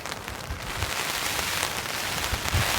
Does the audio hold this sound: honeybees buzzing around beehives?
no